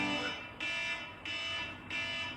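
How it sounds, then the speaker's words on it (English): A repeating electronic alarm beeps in a living room, three pulsing bursts about every half second, moderately loud and alone. "I shut my alarm off too."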